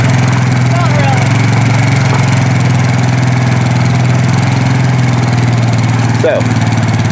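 A four-wheeler engine idles loud and close on a fence-building job, with a steady low rumble that runs unbroken throughout and a short knock near the end.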